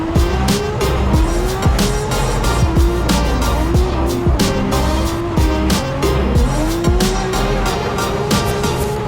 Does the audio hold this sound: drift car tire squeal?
yes